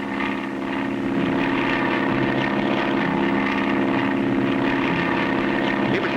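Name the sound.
propeller airplane flying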